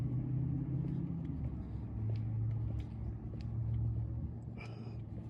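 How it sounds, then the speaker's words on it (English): A loud car on a city street gives a steady low engine rumble with a throaty hum that holds at moderate distance, then eases off slightly near the end. "The loud car turned right before the corner of the building."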